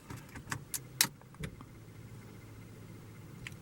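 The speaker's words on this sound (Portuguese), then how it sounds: "Vamos inserir a chave aqui na ignição" Inside a Fiat Pulse Drive 1.3 with a manual gearbox, a key is pushed into the ignition with a few quick metallic clicks and a soft jingle, followed by a faint, quiet cabin hum.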